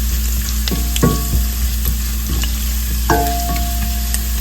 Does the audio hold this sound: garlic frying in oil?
yes